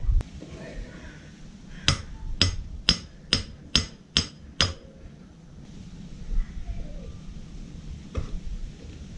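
On a Moto Guzzi V7 motorcycle, the rear axle is driven out with seven sharp, evenly spaced metallic hammer taps close by, followed by quieter shuffling and one last faint knock.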